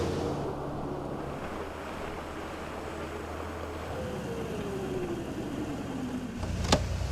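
A boat pushes through swamp water in Big Cypress National Preserve, giving a continuous rushing wash with wind buffeting and a low engine drone, steady and close, with a brief knock near the end.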